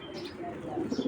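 Racing pigeons of foreign bloodline coo softly and continuously over a steady background, with a few louder coos rising near the end.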